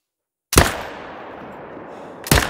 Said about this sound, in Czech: tak tomu jsem dal pojišťovací ránu